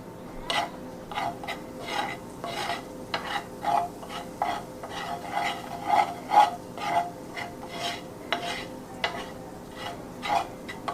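A utensil scrapes and stirs a light roux in a pan in repeated rhythmic strokes, a rasping, rubbing sound with faint sizzling beneath, moderately close and alone with no talking.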